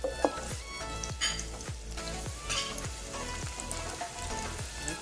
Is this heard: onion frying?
yes